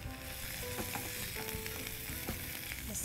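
Carrots stir-frying with onion in a pan, a soft, steady sizzle with occasional light stirring clicks, fairly quiet and alone.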